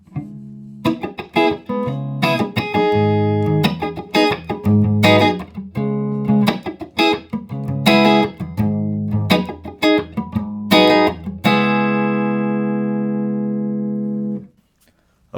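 An electric guitar plays through a Fender Tonemaster Deluxe amp with no reverb: loud, dry picked notes and chords in an uneven rhythm, closing on a long sustained chord that rings out before it cuts off.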